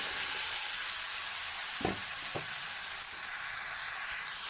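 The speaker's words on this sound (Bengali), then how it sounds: "এটাকে আমি ভালো করে নেড়ে নেব" Pumpkin cooked with hilsa fish head and spices fries with a soft, even sizzle. Two brief spatula scrapes stand out midway through the constant hiss.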